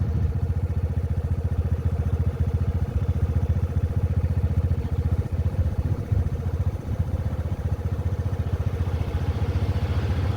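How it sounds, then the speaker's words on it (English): A Honda Navi motorcycle engine thrums steadily and close, a constant mid-pitched putter that never lets up while riding through Pennsylvania. "I'm on the motorcycle, so let's go."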